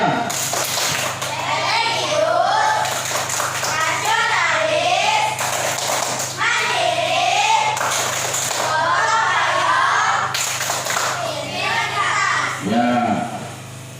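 Elementary school children at SDN Pulau Nibung perform the PPK clapping chant, sing-song group voices with rhythmic hand claps repeating in several loud phrases under steady classroom noise.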